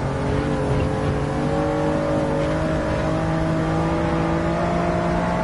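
A Toyota Yaris GR engine held at full throttle in Gran Turismo, a steady, loud sustained drone with a strong harmonic whine that holds unbroken throughout, no voices.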